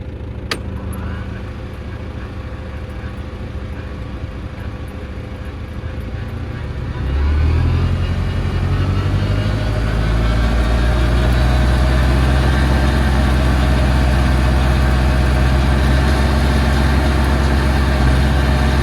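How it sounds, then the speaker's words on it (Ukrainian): A heavy tractor engine idles steadily, then revs up and settles into a loud, continuous rumble with a deep throbbing tone, while sowing sunflowers. "Трактор запустили, все крутиться."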